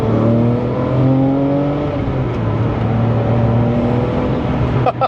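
A rebuilt Porsche 911 Turbo pulls hard from inside the cabin, engine droning loud and steady with rising harmonics through the run, a brief click near the end.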